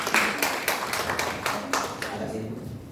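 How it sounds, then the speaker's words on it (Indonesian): A church congregation clapping in uneven bursts, with several sharp claps standing out over a busy room and some background voices. "Oke, tepuk tangan buat Tuhan."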